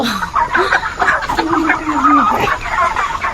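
Farm chickens cluck repeatedly in a busy, close flock, with overlapping calls forming a steady chatter that rises and falls throughout.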